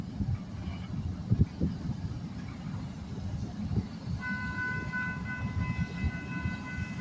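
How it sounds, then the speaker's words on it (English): A freight train with Union Pacific grain hopper cars rolls past at the Coffeyville switcher. There is a steady low rumble and clatter of the wheels, and a long horn sounds toward the end. "Yep, got some Union Pacific grain hoppers."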